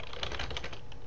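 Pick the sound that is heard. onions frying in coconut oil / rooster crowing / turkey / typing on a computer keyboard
typing on a computer keyboard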